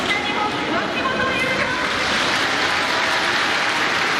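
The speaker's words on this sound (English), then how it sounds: "And the applause for Japan's Wakimoto Yuta." Velodrome crowd at the Izu Velodrome applauding a Japanese cyclist before the men's keirin final at the Tokyo 2020 Olympics, a continuous wash of clapping and cheering, with a commentator's voice audible over the start.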